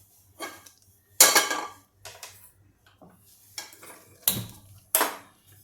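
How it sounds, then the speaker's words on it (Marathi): A metal pan set down on a kitchen counter while making instant matar pocket snacks, giving several sharp clanks and clatters with quiet gaps between them, close and fairly loud. "इथे मी पहिले आधी पॅन ठेवते"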